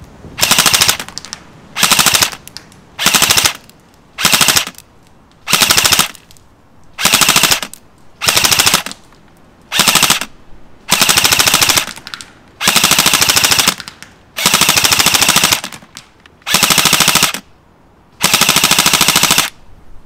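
An airsoft BB gun fires on full auto in about a dozen short, loud bursts of rapid mechanical cracks, each separated by a brief quiet gap.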